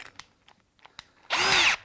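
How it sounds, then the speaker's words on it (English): A power drill bores a 5/8 inch hole in a fishing kayak. A few faint clicks and taps come first, then a brief, loud, whirring burst of drilling. "The next hole we're going to drill is we are going to pop the drill bit out."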